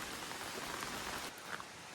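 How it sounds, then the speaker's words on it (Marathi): Light rain falls steadily, a soft, even hiss of fine drops spread across the whole moment with no voices. "बारीक बारीक पाऊस सुरू असा."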